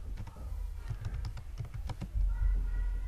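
Fingers tap out a prompt on a computer keyboard in a quick, uneven run of close clicks, with a low hum rising near the end and no talking.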